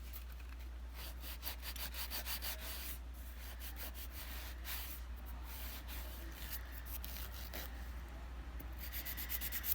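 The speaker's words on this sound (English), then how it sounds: "So let's start filing" A nail file rasps back and forth across fingernails while shaping them, a soft, close, repeated scratchy rubbing in short strokes over a low steady hum, with no talking.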